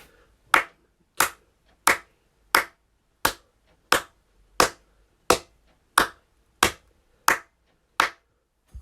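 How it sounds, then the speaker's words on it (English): Twelve sharp hand claps in an even, unhurried rhythm, roughly one every two-thirds of a second, close and crisp with silence between each. "12 claps."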